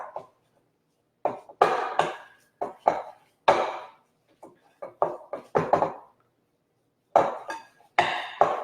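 Cooked brown rice being mixed into a burger mixture in a bowl, with irregular knocks and clatters of a utensil against the bowl separated by short silences.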